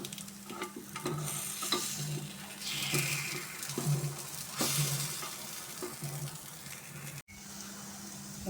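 Banana kuzhi paniyaram cooking on low heat in a paniyaram pan, a soft continuous sizzle with occasional light clicks and scrapes from turning the dumplings, fairly quiet and close.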